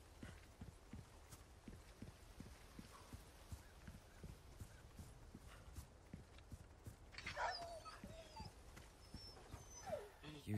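A dog in Resident Evil 4 Remake barks and whimpers against a steady rhythmic clopping, with a brief yelp near the end; no one speaks.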